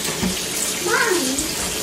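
Warm water from a kitchen tap runs while raw chicken is rinsed in the sink, a loud steady gush and splash filling the whole moment, close by.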